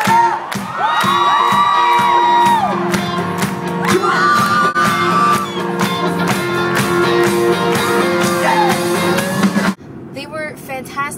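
A concert crowd shouts, whoops and cheers loudly and continuously, with voices close by, then cuts to quieter sound near the end.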